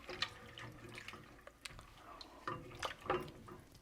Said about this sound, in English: so we'll just stir those in